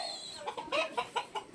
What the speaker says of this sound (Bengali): এখানে কিছু মুরগি আছে যেগুলো হচ্ছে সেল করার জন্য রাখছিলাম।